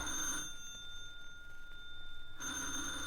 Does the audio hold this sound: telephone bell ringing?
yes